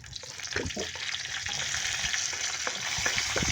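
Garlic sizzles in hot oil in a pan, a steady close frying hiss with occasional stirring and clinks throughout, no talking.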